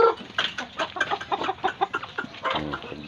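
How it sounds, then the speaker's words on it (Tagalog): Chickens on a small backyard farm cluck and squawk in a busy, overlapping chorus, several birds close by calling in quick irregular bursts for the whole stretch. "Parami ng manok."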